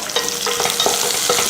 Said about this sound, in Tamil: இப்போ ஒரு பெரிய வெங்காயத்தை பொடியாக கட் பண்ணேன்,